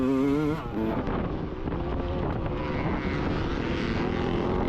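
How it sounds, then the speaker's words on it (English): Four-stroke Honda motocross bike on a dirt track, a loud, close, rough engine roar with rising and falling revs, heavy wind noise, no talking. "pretty sure this is Mr. Fetzer up in front of me on that 4-stroke Honda"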